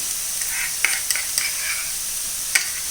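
Egg filling with mayonnaise being stirred in a hot pan, a soft steady sizzle with a few sharp spoon scrapes and clicks spread through it, close and fairly quiet.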